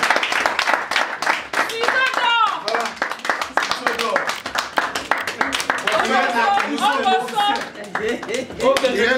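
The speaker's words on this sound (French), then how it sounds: "Si on peut applaudir pour elle, s'il vous plaît." At a birthday celebration, a crowd claps in quick rhythmic bursts, hands beating steadily for several seconds while people talk and call out over the clapping.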